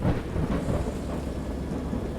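A thunderstorm in the video game Dagon, a dense continuous roar of heavy rain and deep rumbling thunder, loud and close, swelling slightly at the start and holding steady, with no voices.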